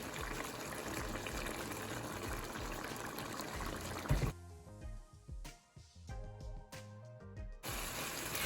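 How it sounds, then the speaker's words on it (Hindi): Half a cup of oil poured into cooked-down tomato paste for braised mutton: a steady, loud rush of pouring and hissing for about four seconds, then quieter clinks and scrapes before the hiss returns. "1/2 कप हम इसमें ऑयल डाल देंगे।"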